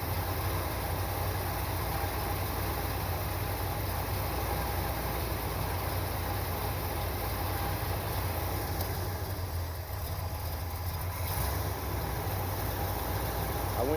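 A 1979 Corvette engine idles after a timing adjustment, a steady, loud low rumble holding an even note throughout with no talking.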